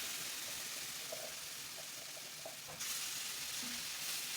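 Tomato puree hitting onions frying in a pan for a meatball sauce, giving a steady close sizzle with light stirring clicks and a louder burst of hiss near the end.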